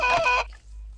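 A chicken in the video game Mana gives a short, bright cluck lasting under half a second, loud and close, alone over a low game hum.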